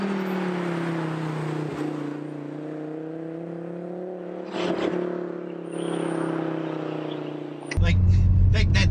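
A Volvo V70R station wagon engine holds a steady droning tone, dips briefly, then swells, ending in a sharper, louder rev burst; a voice is heard over it.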